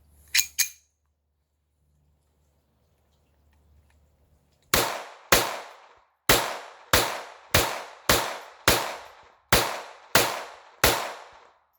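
A Retay RXP22 pistol fires Federal Champion .22 ammunition: two quick shots, a pause, then ten loud, sharp cracks in a fast, slightly uneven string, each cutting off cleanly.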